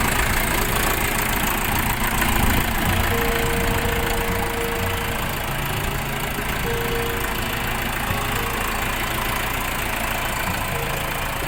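A loud, steady Orion RF 404 tractor engine idles close by in the rain, chugging evenly and without pause for the whole stretch.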